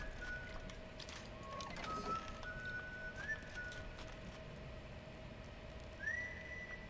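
A character in the Ghost of a Tale video game whistles a soft melody of a few short thin notes spread out over a steady low ambient hum.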